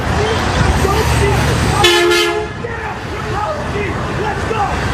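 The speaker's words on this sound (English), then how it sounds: "They're honking, they're fired up" Car horns from Giants fans celebrating in the Bay Area, a sustained toot rising over busy street noise and crowd voices, then dropping back to traffic din.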